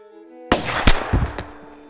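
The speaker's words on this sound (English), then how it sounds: "I was dead before the gunshot reached my ears." A gunshot effect in a dramatic audio story: one sharp, loud blast that rings out and decays, followed by a few quieter cracks or echoes, with no talking.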